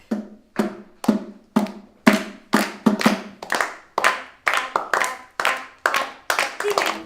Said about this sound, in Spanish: preparen sus palmas, repitan con sus palmas lo que hace la guitarra